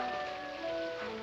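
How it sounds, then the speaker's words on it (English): Rain falls in a steady hiss across a city street scene from a 1950s Paris romantic drama, soft and continuous beneath sustained orchestral tones. "But in this rain."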